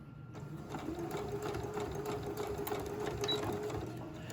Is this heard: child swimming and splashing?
no